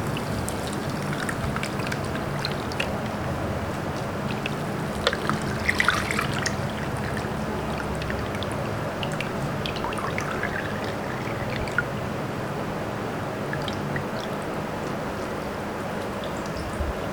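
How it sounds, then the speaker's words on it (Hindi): Fresh mint lemonade is strained, giving a continuous soft trickle and pour of liquid, steady and close throughout with faint clinks, and no talk. "अब हम छान लेंगे।"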